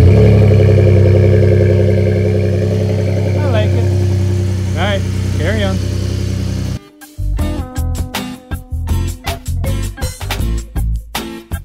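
A 2018 Ford pickup with a Platinum EcoBoost engine and MBRP aftermarket exhaust idles loudly with a steady, deep drone, then the sound cuts off into choppy, pulsing engine bursts nearby.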